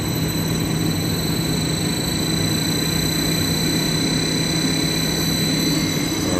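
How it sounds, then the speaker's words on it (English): VFD-driven pump motor starting and running, a steady electrical hum with a constant high whine and broadband rushing noise, even and continuous with no talk. "Pump will start after short delay."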